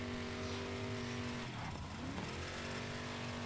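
A toy car engine hums steadily in the Micro Machines World Series video game, its tone shifting and sweeping during a short acceleration midway, with continuous race audio and no talk.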